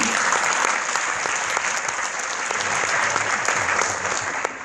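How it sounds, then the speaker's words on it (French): Church congregation applauding steadily, a dense, even wash of many hands clapping that holds throughout and tapers slightly at the end, with no talk over it. "Come on, that's worth a clap of agreement."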